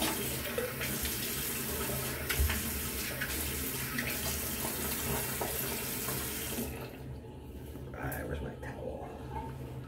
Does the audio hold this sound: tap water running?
yes